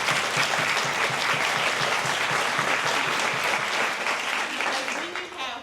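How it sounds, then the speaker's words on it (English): Sustained, loud audience applause at a youth summit for board member Andy, with dense, even clapping throughout and a few voices underneath, tapering slightly at the end. "So can we give him a round of applause?"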